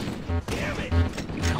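Gunfire in Halo CE: three heavy, booming shots land about half a second apart, each with a deep thump and a short crackling tail, and some background game noise between them.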